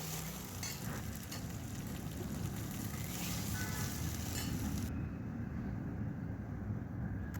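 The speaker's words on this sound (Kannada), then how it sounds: "ಟೊಮೊಟೊನ ಹಾಕ್ಕೊಂಡು ಚೆನ್ನಾಗಿ ಫ್ರೈ ಮಾಡ್ಕೋಬೇಕು" Chopped tomatoes fry in an oil tempering for vegetable dal sambar, giving a loud, continuous close sizzle with faint stirring. No voices are heard.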